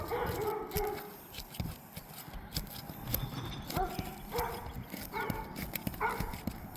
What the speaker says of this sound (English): How about these dogs excited to see him?